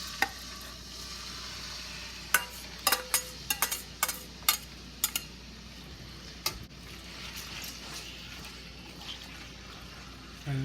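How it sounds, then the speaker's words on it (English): Seasoned shredded pork stir-frying in vegetable oil in a pot for fish-flavored shredded pork, a soft steady sizzle with a run of sharp utensil clicks and scrapes against the pot, close and fairly quiet. "We don't need oil too hot, we add the seasoning pork into it."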